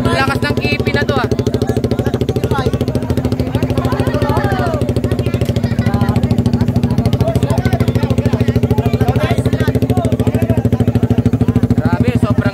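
A motorcycle fitted with a loud aftermarket exhaust pipe idles and revs with a heavy, rapid pulsing rumble, close and loud throughout, while people talk over it.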